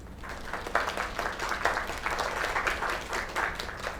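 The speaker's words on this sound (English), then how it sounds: "Another round of applause." An audience applauds a young singer's performance, with sustained, even clapping from many hands throughout, loud and unbroken, and no talking over it.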